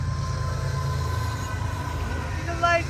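A train rumbles by steadily with a low, continuous roll of wheels on rails and a faint high squeal near the end.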